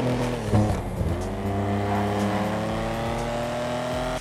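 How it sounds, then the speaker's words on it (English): Stirling GT car engine in GTA Online, a steady, close engine drone with a low tonal hum and a slowly rising pitch after a brief change early on. "it has a great sounding engine and is actually pretty fun to drive"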